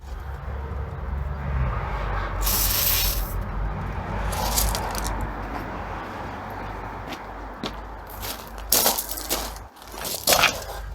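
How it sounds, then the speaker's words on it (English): Short hissing bursts of WD-40 sprayed from a can onto rusted screws, close by, with a longer spray early and a few quick squirts near the end over a low background rumble. "Bit of WD-40 straight out."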